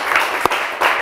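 A short burst of studio applause on a Turkish word game show, dense clapping that swells, dips briefly and picks up again.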